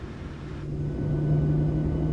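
Boeing 737 MAX engines in a flight simulator spool up for takeoff with a steady low rumble and a tonal hum, growing gradually louder as the airliner starts to roll, with no voices.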